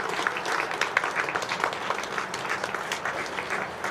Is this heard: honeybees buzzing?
no